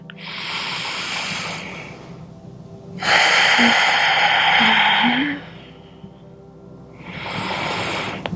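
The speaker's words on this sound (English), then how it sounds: "Take a few rounds of breath here." Deep breathing while lying in yoga Shavasana at the end of a vinyasa flow: slow, close inhales and exhales, three long airy breaths with pauses between them.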